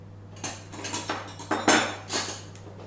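A metal spoon clinking against a bowl while poppy seeds are scattered over vegan lemon muffin batter, a series of light close taps and scrapes in an irregular rhythm, no voices.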